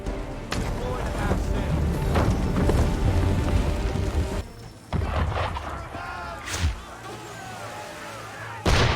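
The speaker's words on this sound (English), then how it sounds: "Why is he shooting at us?" Cannon fire from an enemy ship aimed at the player's ship in Assassin's Creed 3, heavy booms and splashing crashes over a rumbling, rain-like wash, with sharp blasts near the start, middle and end.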